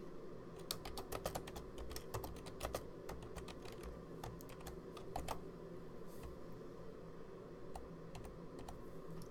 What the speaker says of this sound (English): I'm just going to retype it really quick